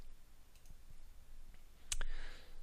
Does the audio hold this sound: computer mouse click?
yes